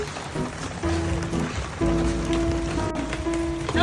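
Steady rain falling in a mountain setting, a dense continuous patter close by with a faint tonal hum running underneath, no voices.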